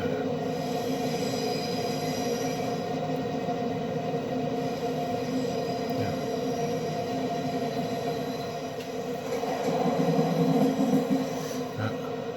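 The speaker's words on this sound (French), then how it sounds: "la locomotive BB 22200 a été la locomotive la plus fiable du parc SNCF" An SNCF BB 22200 electric locomotive hauls a TER train from Marseille Saint-Charles to Toulon in a rail simulator, a steady low rumble and hum of motor and wheels that swells briefly near the end, with no speech.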